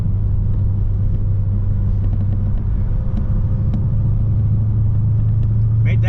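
Car engine and road rumble while driving at 65 in a 45 zone, a loud steady low drone from inside the vehicle that holds constant throughout.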